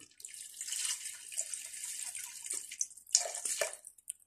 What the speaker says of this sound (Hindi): थोड़ा सा पानी दिया।